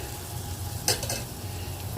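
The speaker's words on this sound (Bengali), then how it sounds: "মা তো এটা লম্বা লম্বা ভাজতে বললো, ভাজছি" Flower fritters frying in a pan, with a steady close sizzle and a short burst of stirring clatter partway through; no one speaks.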